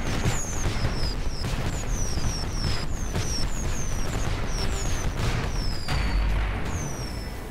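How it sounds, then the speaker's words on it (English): Game fireworks in Warframe during a Fourth of July boss fight finale: rapid, continuous crackling bursts with repeated rising whistles, loud and dense with no pauses. "Fireworks!"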